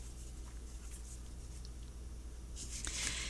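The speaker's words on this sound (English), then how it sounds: "Ooh, they shuffle kind of nicely that way." A large deck of matte-finish oracle cards being shuffled by hand, a soft papery riffle and slide that swells into a louder burst of card noise near the end, close up over a low steady hum.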